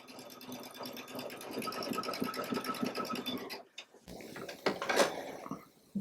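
A Baby Lock sewing machine with a fringe/looping foot stitches in a fast, steady whirring run, then stops briefly and restarts with a few short bursts and clicks, close and alone.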